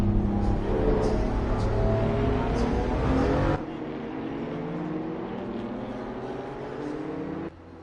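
A pack of race cars barrels down a straight at night in a racing game on the COTA circuit. A steady engine drone sustains, then drops in level partway through and cuts off near the end.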